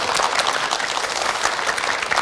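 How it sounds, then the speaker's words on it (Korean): A studio audience at a televised lecture applauds, producing dense, even clapping that holds steady for about two seconds. "두 분 박수 부탁드리겠습니다."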